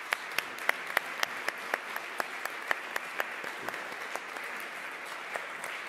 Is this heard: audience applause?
yes